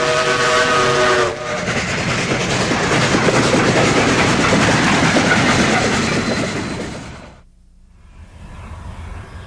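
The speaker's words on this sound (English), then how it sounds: "K-36 480 arrives with the caboose from Salida, but it's too late for the last train from Saponero." Narrow gauge K-36 steam locomotive arriving with a caboose on the 1950s Rio Grande line: a loud, close whistle blast over a heavy rumbling of chuffing and rolling wheels, which fades as the train passes.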